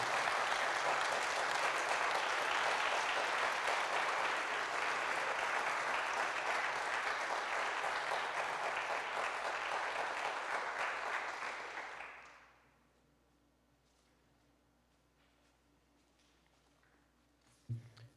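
Sustained applause from an audience at a high school Rho Kappa induction ceremony, dense and steady for about twelve seconds before cutting off to near silence, with a brief faint knock at the very end.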